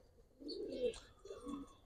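Pigeons from a matched pair of Giribaz high-flyer stock coo softly in two short low bursts, a quiet close call with a pause between.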